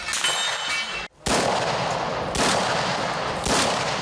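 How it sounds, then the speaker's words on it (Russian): Bursts of small arms fire at a special firing range, loud dense rattling volleys that cut out abruptly, resume, and continue with sharp repeated cracks close by, with no voices. "На спецполигоне они вели огонь из различного стрелкового оружия"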